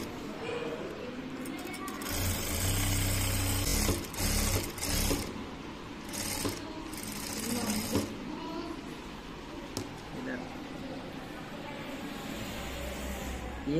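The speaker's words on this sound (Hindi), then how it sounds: "सबसे पहले इस साइड में एक सिलाई चलेंगे" A sewing machine stitching the front button placket of a shirt runs in several bursts of fast, steady whirring, with pauses between runs while a person talks throughout.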